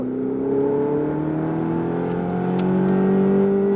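A Ferrari accelerates on a track at Issoire, its engine note climbing steadily and loud from inside the car, rising through the revs without pause.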